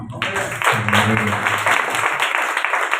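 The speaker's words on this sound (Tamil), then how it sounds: "நம்மளுக்கு ஒரு கைதட்டு இல்லாமா?" An audience at a sermon about Jesus claps together, a burst of many hands starting abruptly and continuing steadily, with a voice over the first part.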